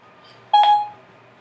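A short electronic confirmation tone from a phone's voice assistant setting a timer, a single clean beep lasting about a quarter second in a quiet room.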